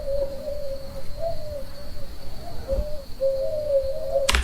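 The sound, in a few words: AI-generated owl hooting in the wind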